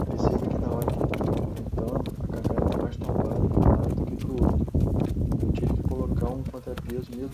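A horse's hooves clip-clop steadily on the ground while it is ridden, leading a second packhorse, with someone talking over the walking rhythm.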